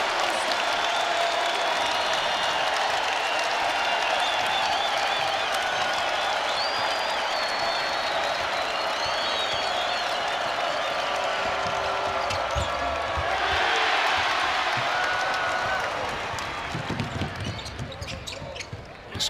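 Big 12 men's basketball arena crowd, UCF vs. Iowa State, roars and applauds in a loud, sustained wall of cheering with whistles, swelling briefly before fading as a commentator's voice comes through underneath.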